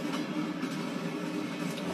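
A passenger train runs on rails through Albany, giving a continuous rumbling roar with faint rhythmic clicks of wheels over track joints, steady and close, with no voices.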